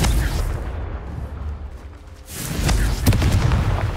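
Repeated Confringo fire spell explosions from Hogwarts Legacy, a string of booming blasts and bursts, loudest in the later seconds, with no voices over them.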